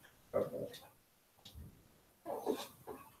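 A young male dog whimpers in short, faint whining bursts separated by pauses, close by, with soft human voices nearby.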